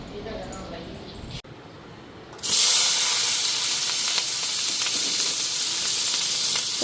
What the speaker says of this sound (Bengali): তো এদিকে আলু ভাজা বসাইলাম।